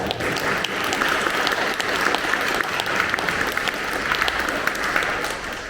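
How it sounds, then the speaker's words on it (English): Sustained audience applause filling a room at a teacher training day event, a dense even patter of many hands clapping for several seconds, loud and close with no speech over it. "Big round of applause."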